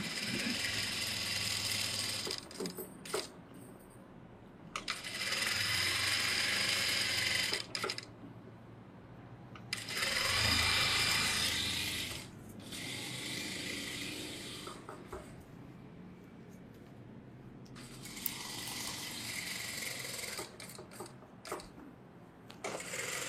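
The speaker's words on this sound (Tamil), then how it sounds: "இப்போ சுற்றி 1/4 இன்ச்சு விட்டு தையல் போடும்." Sewing machine stitching a blouse piece during a tailoring lesson, with repeated bursts of rapid mechanical whirring and clatter separated by pauses, close and fairly loud.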